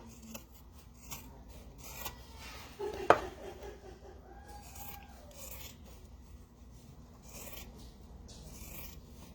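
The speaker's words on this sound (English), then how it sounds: "then we're going to trim our seam allowance" Scissors trimming the seam allowance of a sewn fabric wallet, a faint series of soft snips and rubbing cuts with one sharper click, quiet and close with no talking.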